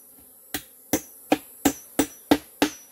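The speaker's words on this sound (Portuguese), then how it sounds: "Colocar os pregos." A hammer drives nails into a wooden beehive box outdoors, seven sharp, evenly spaced knocks close by, with a faint steady hum of bees between strikes.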